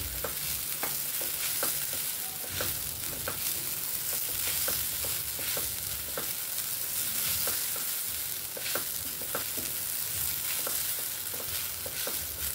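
Freshly grated coconut sautéing in a pan for ahead of sweet karanji filling, a steady soft sizzle with regular light scrapes and clicks of a stirring spoon, close and continuous.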